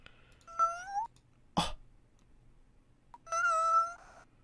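A person imitates a kitten, producing two drawn-out, high whiny meows separated by a short pause, close and clear, with a sharp click or thump between them.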